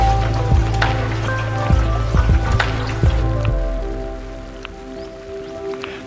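Rain from a squall patters steadily on a small dinghy out on a lake. A low hum runs underneath, with a few hollow knocks and taps close by.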